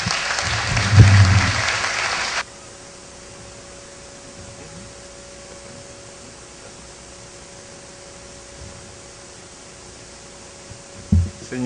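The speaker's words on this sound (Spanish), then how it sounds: "Recibamos con un fuerte aplauso" An audience at an academic conference in Peru applauds to welcome a speaker, a loud burst of clapping for about two seconds that stops abruptly, followed by quiet room hiss and a brief thump near the end.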